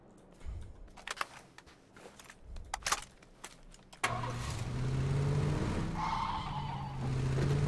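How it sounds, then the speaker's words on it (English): A car in the PUBG video game clicks and thumps through a few loose taps, then its engine bursts into a loud, steady drone that stays close and heavy to the end, with a rising whine sliding over it. "Man, this car's so loud."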